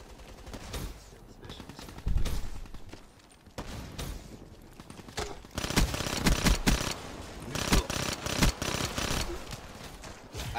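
Rapid bursts of gunfire from an online multiplayer shooter, sharp repeated cracks of varying loudness overlapping with game effects and talk, growing denser and louder in the second half.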